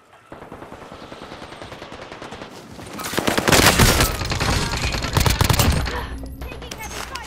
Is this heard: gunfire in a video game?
yes